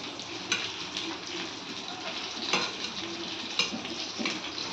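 Surmai fish frying on a pan produces a dense, continuous sizzle with occasional sharper crackles and light clinks, close and steady.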